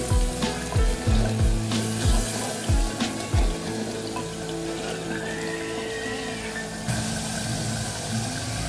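Chicken sizzling in a pan while spices are mixed in, a bright continuous crackling fry with a few low knocks of a spoon against the pot early on.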